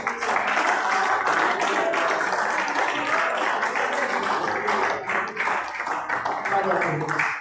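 Church congregation clapping at a revival service, a dense, continuous crowd applause filling the room at close range, with voices mixed beneath it.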